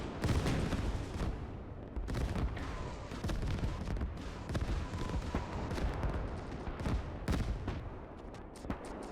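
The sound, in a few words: Katyusha rocket artillery barrage in video game Gates of Hell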